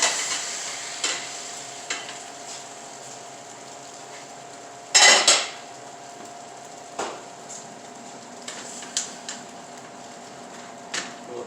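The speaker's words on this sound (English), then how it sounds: "now I'm just going to slip it right back into the pan" A Spanish tortilla slides back into a frying pan with one brief, loud sizzling burst midway; otherwise there is only a low hum and scattered faint clicks.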